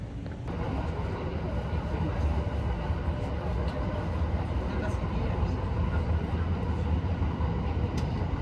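Steady rumble and roar of a train at a railway station in Japan, a continuous broad wash of noise with faint higher squeals, while people talk over it.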